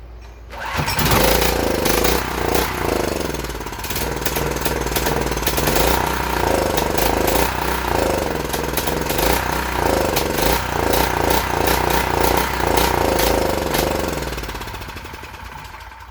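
A Gravely 7.6 generator engine, refueled after a fill-up, catches and runs loud and close with a rough, sputtering chug for about thirteen seconds before dying away.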